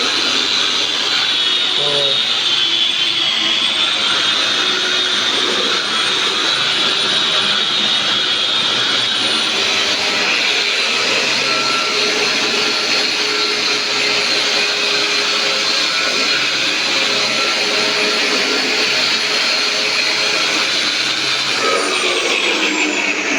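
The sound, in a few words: electric sanding machine rubbing down a wall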